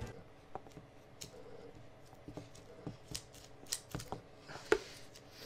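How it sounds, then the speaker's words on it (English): Scissors snipping through pillow material in a home workshop, a scattering of quiet, uneven clicks and cuts, close and faint, with one sharper snip near the end. "got some more scissors"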